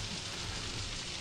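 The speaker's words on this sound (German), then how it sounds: "Das regnet draußen oder bin ich da drinnen?" Rain falls outside in the horror video game Outlast, a faint steady hiss of drops on surfaces heard alone for a brief moment.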